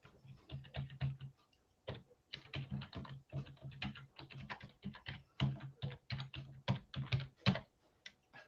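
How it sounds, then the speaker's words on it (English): Fingers type steadily on a computer keyboard in a quiet room, the keystrokes coming in quick irregular bursts with brief pauses, close and crisp with no one talking. "I'm just going to type in"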